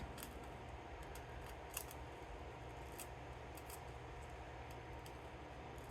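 Soft, repeated snips of scissors cutting through paper, close by and quiet, spaced irregularly over a faint steady background hiss.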